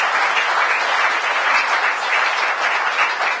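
Audience applause after a talk at the MacGill Summer School, a dense, steady, loud wash of clapping from a large crowd, continuous throughout with no speech.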